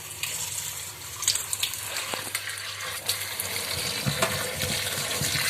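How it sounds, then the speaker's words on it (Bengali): Running water splashes over pieces of spiny gourd being washed in a pot, a steady close gush with scattered small clinks and splashes throughout. "এগুলোকে ভালো করে জল দিয়ে ধুয়ে নিয়েছি"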